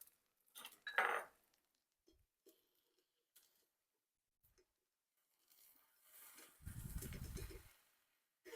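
A turkey pepperoni breakfast quesadilla flipped in a pan: a clatter of spatula against the pan, a few faint taps and scrapes, then a sustained sizzle as it lands, close and without talk.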